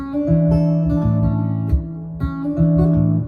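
Acoustic guitar in a G shape plays a song's riff, with hammer-ons from the open second string to the first. Clear plucked notes ring out in a steady rhythm, close and alone.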